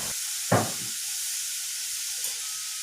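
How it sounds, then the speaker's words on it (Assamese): Tomatoes cooking in a hot saucepan for oil-free homemade ketchup give a steady, close hiss of steam and sizzle, broken by one sharp stir or clack of a utensil near the start, with no talking. "টমেটোটো দিয়াৰ পিছত এতিয়া অলপ লৰাই লৈছোঁ"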